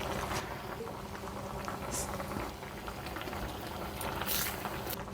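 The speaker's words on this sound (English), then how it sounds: "We will cook in there no more than 2 minutes with the prawn." Thai green curry with prawns simmers in a pot, a close, continuous bubbling and popping with soft liquid patter, steady throughout with no speech.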